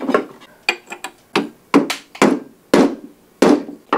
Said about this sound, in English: Rubber mallet. Slide the bearing.